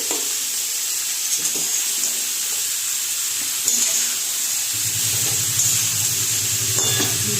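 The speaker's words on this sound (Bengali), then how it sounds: "ভালো করে নেড়ে দিতে হবে।" Calabash and prawns frying with turmeric while a spoon stirs them. A loud, constant sizzle runs throughout, with scattered scrapes and a low rumble toward the end, and no talking.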